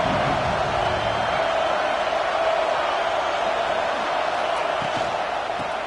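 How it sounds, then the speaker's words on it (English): Dense stadium crowd roar from a college football video game, a loud steady wash of noise holding evenly for several seconds. "This crowd ready to make its presence known."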